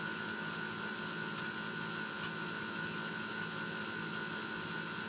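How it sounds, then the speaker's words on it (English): A low-RPM 12-phase alternator runs with a faint, steady electrical hum that holds an even tone throughout, with no voices. "12-phase alternator, I mean, it's putting out good amps."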